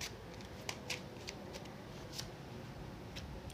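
Tarot cards are shuffled and drawn in a quiet room, several soft, quick flicks and snaps spaced irregularly over a faint background hiss.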